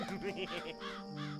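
Crows caw in Greak: Memories of Azur, harsh calls repeating in quick succession over steady game music.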